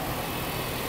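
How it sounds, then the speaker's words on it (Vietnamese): Engine of a 2019 Toyota Fortuner idling at slightly raised revs while warming up, a steady close rumble running alone without pause. "buổi sáng nọ thì ga nó hơi cao một tí xíu để nó hâm nóng cái động cơ"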